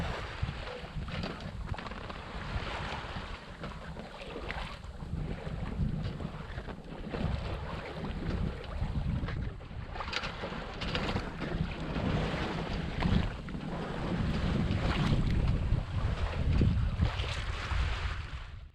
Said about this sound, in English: Even though the winds are really light, we're still making some headway to the northwest.